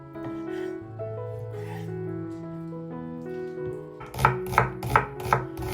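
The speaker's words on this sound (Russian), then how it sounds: "И, конечно, кусочки лучше нарезать совсем небольшие." A knife chops skin-on, mostly boned chicken into small pieces on a board, with about five sharp, evenly spaced chops in the last seconds after soft melodic music.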